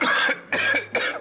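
Three quick, harsh coughs in a row, close by, with brief gaps between them.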